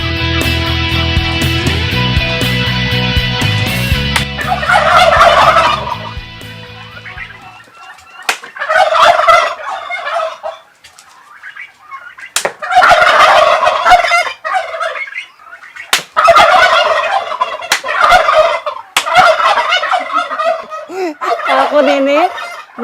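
Turkeys gobble repeatedly in loud bursts, with pauses between calls; a low mechanical hum runs underneath at the start.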